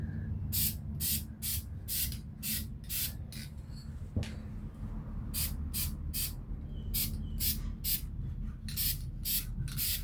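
Spray paint hisses from an aerosol can in repeated short bursts onto an Umarex Avera airgun, each spray lasting a fraction of a second with steady rhythmic gaps, close and fairly loud over a low background hum.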